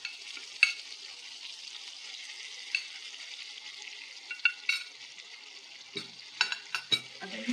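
Prawns fry in a pan with a continuous close sizzle, while scraping and clinking from a spoon stirring and sautéing them break in as sharper knocks toward the end.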